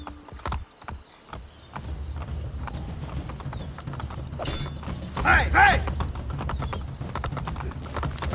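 Horse hooves clip-clop at a gallop across a bridge in Assassin's Creed: Brotherhood, a steady rapid beat with faint creaks and a brief whinny-like burst midway, set against low rumbling game ambience.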